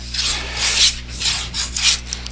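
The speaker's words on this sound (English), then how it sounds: "Makes it a little easier to plane" A hand plane scrapes across wood in four rhythmic rasping strokes, each a breathy shave rising and fading, close by with no talking, during wood carving of a seal.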